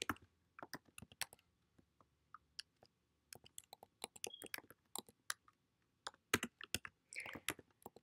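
Typing on a computer keyboard, sharp close clicks in irregular bursts with brief pauses, quiet with no voices.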